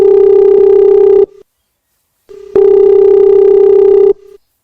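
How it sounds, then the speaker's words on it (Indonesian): Loud telephone tone through a handset in an animated school drama, two long steady buzzing tones separated by a second of silence, each ending in a short blip, clear and alone. "Ah, telepon aja deh."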